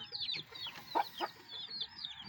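A Chinese chicken clucks softly in a few short calls among farm animals, faint and somewhat distant, with no talk over it.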